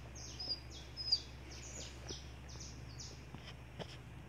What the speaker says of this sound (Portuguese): Não, ele tá cantando pra lá